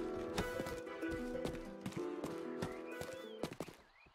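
A horse in the game Rustler clip-clops in a brisk, even rhythm of sharp hoof strikes, close and clear, then gives a neigh near the end.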